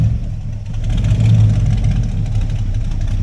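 A Ford Gran Torino station wagon's big V8 engine rumbles nearby with a deep, uneven burble, idling and swelling slightly louder as it creeps along while parking at a car meet.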